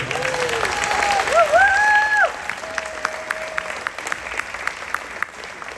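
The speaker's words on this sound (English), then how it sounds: "let's give this young man a round of applause" An audience at a school ring ceremony applauds a young man, sustained clapping with whoops and cheering voices rising over it, tapering to scattered claps.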